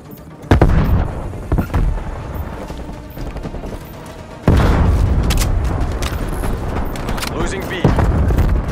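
A frag grenade detonates in a military shooter game with a loud, close boom that rings on. Scattered gunfire and thuds come before it, another burst follows near the end, and a voice talks faintly at times.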